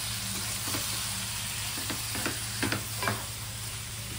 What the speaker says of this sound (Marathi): आता आपण जे स्क्वीड आहे आपला मॅरिनेट करून ठेवलं ते टाकू